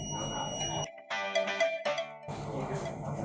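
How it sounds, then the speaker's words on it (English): Buzzer alarm on an automatic doorstep sanitizer prototype sounds a steady electronic tone lasting about a second and a half, set between stretches of background noise. "the buzzer will go off, and the buzzer will sound a bit longer to alert the guards."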